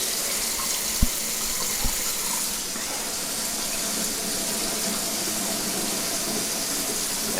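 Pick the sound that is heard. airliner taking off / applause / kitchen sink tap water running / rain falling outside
kitchen sink tap water running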